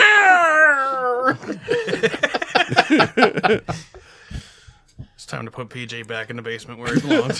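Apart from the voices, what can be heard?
cat screaming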